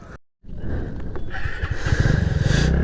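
A motorcycle rides by near a sandy former riverbed. After a brief silent gap, its engine hum builds into a steady, close drone that grows louder toward the end.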